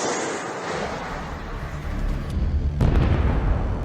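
Javelin missile striking a Russian infantry fighting vehicle, a roaring rumble that swells into a heavy, loud explosion burst near the end.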